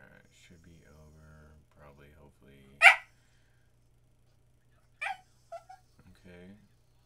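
A puppy in the video game Runaway: A Road Adventure gives a sharp bark, then a few short whimpers, between stretches of game character speech in a quiet scene.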